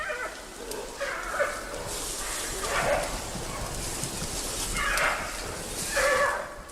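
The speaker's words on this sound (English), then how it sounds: "From the growls, it's obvious the males will have no energy left for fighting, as Lulu does with the females in Wulong." Wild giant pandas call in the forest, producing a series of faint, bleating, whinny-like growls and moans in irregular bursts over a soft background hiss.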